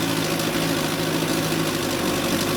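An early Mercury Mark 55 outboard engine idles steadily in neutral, a close, continuous mid-pitched running drone with even mechanical vibration and no pauses.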